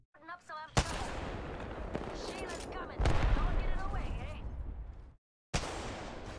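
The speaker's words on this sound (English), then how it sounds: "Nice shot with that minigun." Minigun fire in Apex Legends Season 6, Rampart's weapon: a sustained, close, rattling stream of shots that swells midway, cuts out briefly, then resumes, with voices talking over it.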